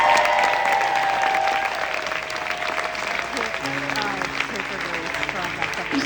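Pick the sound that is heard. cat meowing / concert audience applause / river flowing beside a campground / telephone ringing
concert audience applause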